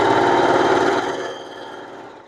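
A sewing machine runs steadily while stitching curtain fabric, giving a dense, rapid mechanical whir that holds strong at first and then gradually slows and fades toward the end.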